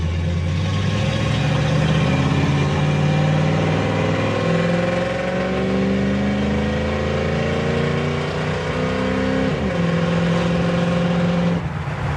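A 1968 Chevrolet Camaro accelerates hard from close by, its engine note climbing steadily before dropping as it shifts from first to second gear at 3,500 RPM, then pulling again.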